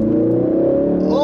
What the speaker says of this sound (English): Ford just did a really fantastic job with tuning this exhaust right.